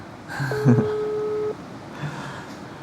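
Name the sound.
telephone call ringing tone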